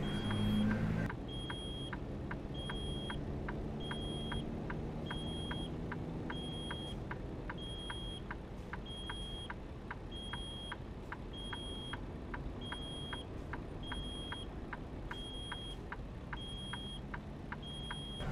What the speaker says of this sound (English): See that beeping noise? That's the brake pressure warning.